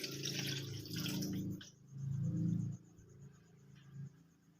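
Water from a glass pours into a custard cake batter of vanilla and cooking oil, a steady liquid splash rising and falling in two bursts, followed by quieter trickling and a faint drip near the end.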